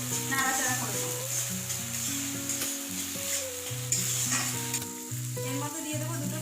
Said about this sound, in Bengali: সর্ষে বাটাটা একটু কষিয়ে নেব